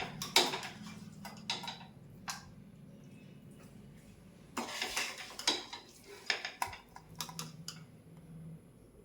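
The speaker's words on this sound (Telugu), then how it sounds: "ఆనియన్స్ వేసిన తర్వాత మొత్తం ఒకసారి కలిసేటట్లుగా కలుపుకుందాము." A utensil clinks and scrapes against a pan while onions are stirred into coriander chutney, producing quiet scattered taps and clatters in irregular clusters, fairly close and otherwise calm, with no talking.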